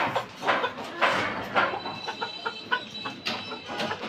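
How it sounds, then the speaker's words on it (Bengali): Laying hens clucking in the lower shelf of a four-tier coop whose upper shelves hold pigeons, with repeated short clucks and squawks close by, alongside soft rustling and feeding noise. "আর নিচের সেলফে রেখেছি মুরগি"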